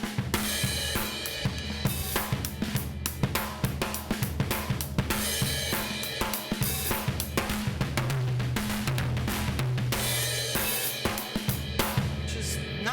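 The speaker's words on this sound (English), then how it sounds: "was I was coming down on the snare and the cymbal all the time" Full drum kit played with the snare and crash cymbal struck together again and again, dense and loud throughout, with steady bass notes underneath and no talking.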